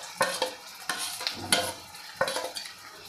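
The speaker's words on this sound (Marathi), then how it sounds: "आणि हे सगळं आपल्याला मिक्स करून घ्यायचं आहे।" A utensil stirs cooked mung beans with turmeric in a pan, with several distinct scraping strokes in an uneven rhythm over a soft background sizzle, close and clear with no speech.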